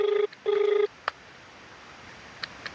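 An outgoing phone call's ringback tone sounds close and clear: two long buzzing rings separated by a short gap, followed by faint clicks and near silence.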